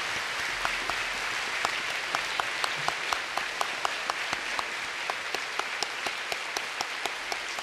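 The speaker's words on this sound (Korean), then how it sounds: "자, 뜨거운 박수 부탁드리겠습니다." Warm, sustained applause fills the hall at an honorary Doctor of Divinity degree ceremony at Knox Theological Seminary, a dense, even wash of many clapping hands with sharp individual claps standing out, steady and unbroken throughout.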